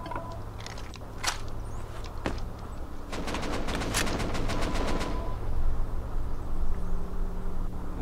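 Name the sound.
gunfire in the video game Rust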